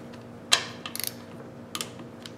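A torque wrench clicks and ratchets in a few quick bursts while tightening bolts on a TH400 Turbo 400 Hydra-Matic transmission during a shift kit install, close and fairly quiet against a low steady hum.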